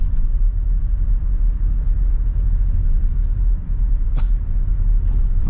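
Toyota Innova Reborn 2022 diesel with manual gearbox pulling in third gear between 2000 and 3000 rpm, a steady loud low rumble with road noise throughout and a brief thump near the end.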